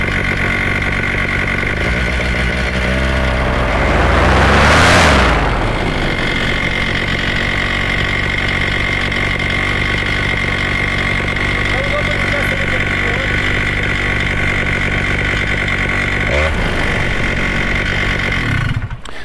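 A Vittorazi Moster 185 paramotor engine idles loud and close with a steady buzzing drone after its carburetor low speed needle is adjusted, swelling briefly in a short throttle blip early on before settling back.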